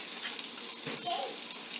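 Oil sizzles and hisses steadily up close as asparagus fries in it, a constant bubbling crackle with no voices.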